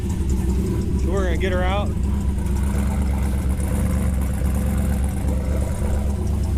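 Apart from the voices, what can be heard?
LS-swapped turbo Ford Ranger engine idling after starting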